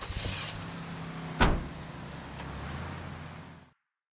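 Idling car in L.A. Noire with a low engine hum, a sharp door-like thump near the start, then steady running until it cuts off abruptly near the end, close and moderate in level.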